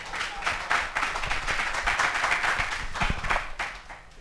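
Audience clapping at a book launch: a few scattered hands clapping at close range in an uneven rhythm, some claps sharper than others, with no talk over it.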